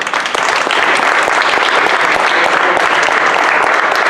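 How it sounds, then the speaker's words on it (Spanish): An audience at a book fair lecture in Caborca breaks into continuous, loud applause, thick and steady from start to finish. "Un aplauso para él."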